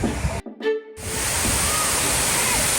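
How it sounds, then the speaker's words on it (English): Llano de Cortes waterfall in Costa Rica pours in a steady close roar of falling water, briefly cut out near the start before the full rush returns and holds. "All right, I'm gonna make my trek behind the waterfall."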